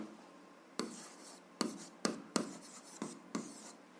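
Pen or pencil writing out an algebra equation solution on paper, heard as a quiet scratching run of strokes with several sharp taps where the tip meets the page, close and alone with no talking.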